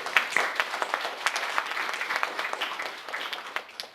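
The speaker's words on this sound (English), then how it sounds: "Big round of applause for our" Audience applause for panelists after a conference panel on Wikipedia, moderately loud scattered clapping with distinct individual claps, continuing steadily and thinning toward the end.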